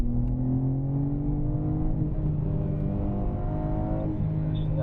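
A BMW M car accelerates hard on a race track, its engine loud and close with a steady roar and a pitch that climbs through gears, with no talking.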